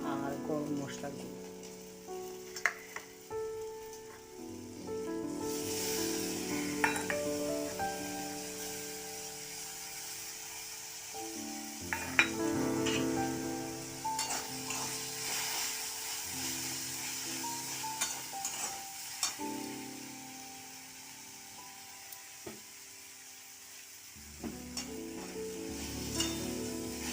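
Turmeric, chili, cumin and garam masala sizzle in hot oil with taro flowers, giving a close, steady frying hiss broken by stirring scrapes and occasional clinks of the utensil against the pan.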